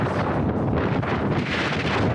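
Strong, loud wind buffets the microphone in a continuous roaring rush while a load is tarped on a truck headed to Lackland AFB, steady throughout the short stretch with no voices.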